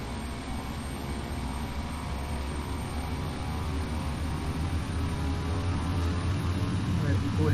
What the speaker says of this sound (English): We'll just do a little rolling takeoff.